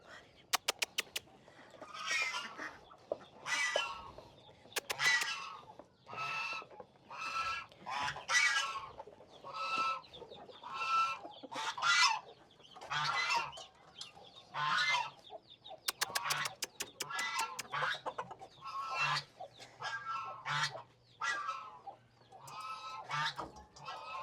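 Hens and chicks cluck and chatter while pecking at sprouted grain, with repeated bursts of loud, close clucking and someone talking at intervals among them.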